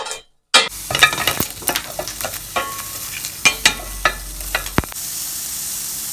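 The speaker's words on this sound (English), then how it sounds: "We're going to add those ingredients to a saucepan. We're going to let them saute slightly." Ingredients saute in a saucepan while a utensil stirs them, producing a soft sizzle punctuated by repeated scraping and clinking strokes after a brief silent gap at the start.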